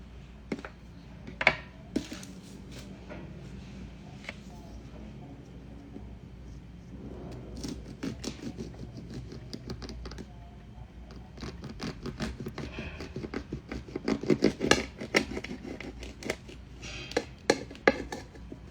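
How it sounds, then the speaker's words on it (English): A knife cuts a mandarin in half on a board, giving quiet scattered scrapes, taps and soft chopping knocks that are busier and louder near the end, with no talking. "I'm going to first cut my mandarin in half."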